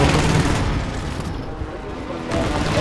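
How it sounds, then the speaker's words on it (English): A precision airstrike in Call of Duty: Modern Warfare lands as loud, rumbling explosions and booming blasts, with a dense roar at the start and again near the end. "Allied precision airstrike incoming"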